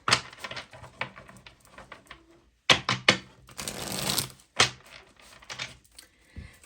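Tarot cards being shuffled by hand, a run of quick papery riffles and flutters in bursts with short pauses, close and clear, no talking.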